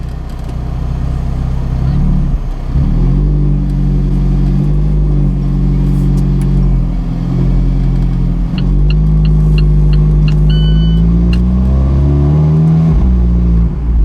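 An Alfa Romeo 4C Spider with its stock Akrapovic exhaust rumbles and revs under acceleration, its deep engine note rising and falling through gear changes, loud and close, with some faint speech mixed in.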